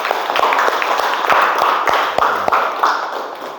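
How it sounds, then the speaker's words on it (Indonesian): A small group claps at a school relay-race lesson, scattered hands patting in a loose, uneven rhythm for a few seconds, moderately close. "Ya, tepuk tangan."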